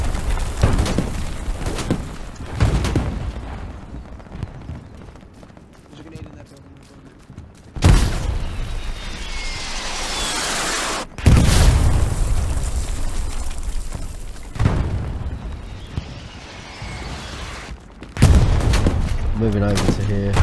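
Loud artillery explosions and bursts of gunfire from the Stalingrad map of the video game Hell Let Loose, with heavy booms hitting repeatedly through the stretch over a rumbling battlefield din, while a player talks throughout.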